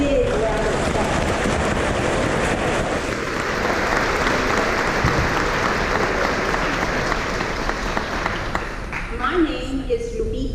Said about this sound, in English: Let's give these talented students a big round of applause.